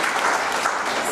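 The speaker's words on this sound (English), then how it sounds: "I think we should give Rosanne a clap for that" Brief, steady applause from a book launch audience honouring an award-winning editor, a short burst of dense clapping at moderate volume.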